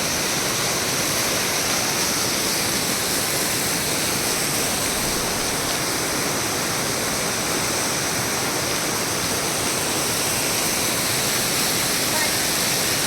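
A waterfall roars as a loud, continuous broadband rush with no pauses, filling the scene evenly from start to finish.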